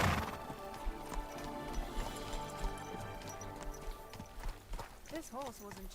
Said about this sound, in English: This horse wasn't cheap, that's for sure.